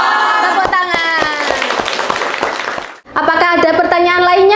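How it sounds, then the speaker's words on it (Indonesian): Rhythmic hand clapping from a classroom of students, a steady run of sharp claps mixed with voices chanting along, briefly pausing before resuming loudly. "Tepuk tangan."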